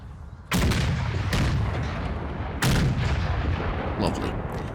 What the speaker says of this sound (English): Cavalry, by the way, extra soft targets for most artillery in the game.